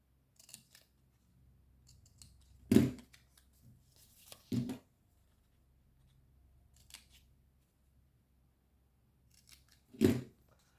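Three crisp snips of scissors bevel-cutting each side of the fold in folded paper for an Advent calendar, spaced seconds apart in a quiet room with faint rustling between cuts.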